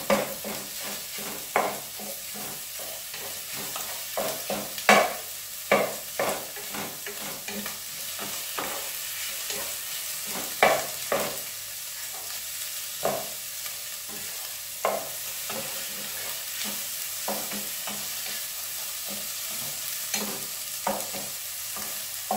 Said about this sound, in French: Là, je vais les laisser dorer un petit peu